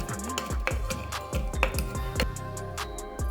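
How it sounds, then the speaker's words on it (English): Three basil leaves and two blackberries are crushed with a muddler inside a cocktail shaker, giving a quick series of dull knocks and squishy thuds in irregular rhythm, close and clear. "I'm muddling in 3 basil leaves and 2 blackberries directly in the"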